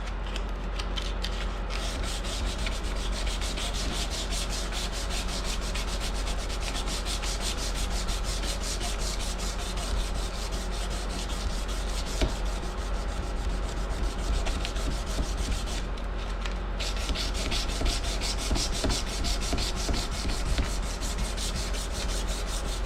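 A knife's bevels are ground and sanded on a bench grinder in a workshop, a continuous loud, coarse rasping and rubbing that runs without pause at close range.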